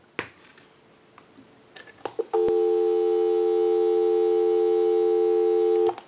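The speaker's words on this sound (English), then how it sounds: "Go ahead and give you some dial tone." A few clicks and taps, then a steady, loud telephone dial tone from a Western Electric 233G three-slot payphone hums unbroken for several seconds before cutting off.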